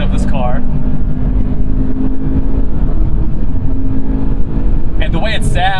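A Scion FR-S four-cylinder engine revs hard at high RPM with a steady, loud, buzzy drone inside the cabin, while someone talks over it and brief squeaky sounds break in near the end.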